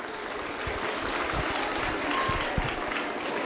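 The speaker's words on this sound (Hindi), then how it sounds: "बच्चे जोरदार तालियां बजाएं।" Schoolchildren applaud at a high school and junior college annual function. Steady clapping from the crowd carries a few sharper, closer claps and a light murmur of voices underneath, holding at a moderate level throughout.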